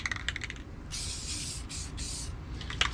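Rust-Oleum gloss navy blue spray paint hisses from an aerosol can over black primer on a model truck part, three close bursts of about half a second each, with faint clicks and rattles before and after.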